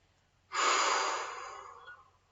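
A single slow exhale during a sophrology relaxation exercise: a soft, airy breath that starts suddenly, is close and fairly quiet, and fades away over about two seconds.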